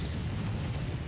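Explosion in the shooter game Aliens: Colonial Marines, a sustained deep rumbling boom that fills the whole moment at moderate level, with no speech over it.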